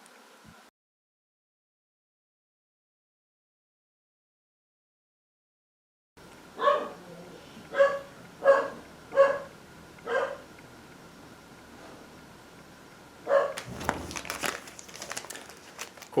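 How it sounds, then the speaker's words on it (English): A few dogs bark at a distance, five muffled barks in quick succession after a stretch of silence, followed by a clattering rustle of dumpster activity nearby. "the dogs start barking"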